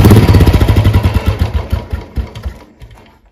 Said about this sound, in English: So now my bike's engine is cold and you can properly observe that the RPM won't be stable.